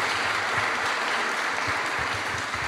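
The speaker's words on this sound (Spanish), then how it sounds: "un aplauso" Applause from an audience at a gathering of worshippers held in a school, steady dense clapping filling the whole moment, fairly loud and continuous with no voices over it.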